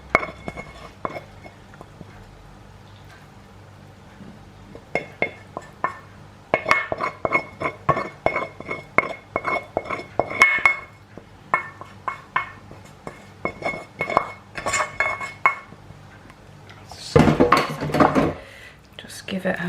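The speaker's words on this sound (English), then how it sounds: "Just give it a bit of a mix so it gets all on top" A butternut and mozzarella salad with dressing being tossed in a bowl, with soft clinks and scrapes of utensils against the dish in irregular bursts, close by, with some quiet talking.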